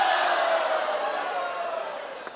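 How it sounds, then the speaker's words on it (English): Loud crowd roar at the 2017 T2 APAC grand finals esports event, a broad sustained wash of cheering voices that fades slightly over a couple of seconds. "listen to the crowd"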